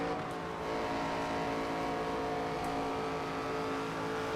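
A race car engine in the NASCAR 25 video game holds a loud, steady, high-revving drone as it accelerates, close and continuous, with no talking.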